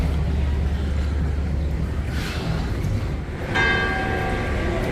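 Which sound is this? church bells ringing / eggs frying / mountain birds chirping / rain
church bells ringing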